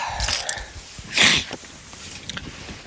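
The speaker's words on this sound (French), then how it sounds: "il faut que je me mouche encore" A single short, forceful nasal blow bursts out amid quiet background sounds, close to the listener.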